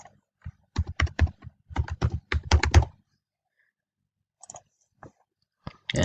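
A computer keyboard is typed on in a quick burst of clicking keystrokes, then goes quiet before a few scattered key presses and a final click, all close up with no speech.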